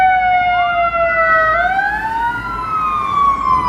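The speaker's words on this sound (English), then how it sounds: "Here comes a fire engine here." Chicago fire engine siren wailing loud and steady as the truck responds to a call downtown, its pitch sweeping down then rising again over low street traffic rumble, no talking.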